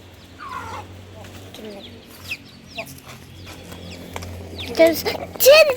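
A chicken pecking at scattered grain gives soft, intermittent clucks close by, with a person talking quietly at times and louder calls near the end.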